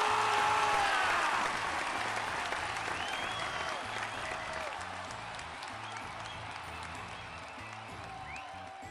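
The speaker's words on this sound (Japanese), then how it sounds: "皆様、盛大な拍手を。" Crowd applause in the Tales of Hearts R video game: loud, dense clapping that starts at full strength and slowly fades, with faint speech underneath.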